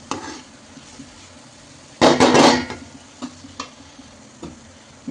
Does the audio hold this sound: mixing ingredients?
yes